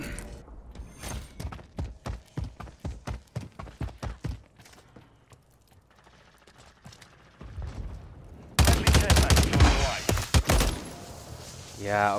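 Fast bursts of automatic gunfire from Modern Warfare III multiplayer crackle in a rapid run of sharp shots, then go quiet before a loud, dense stretch of game combat noise. A player talks throughout.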